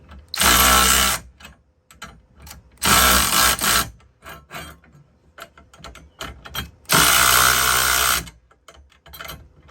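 Bolts on a rear-door aluminum tire rack of a Sprinter van are driven with a 9/16 socket, heard as three loud, close bursts of power-tool whirring, each about a second long, with quieter clicks and clanks between them.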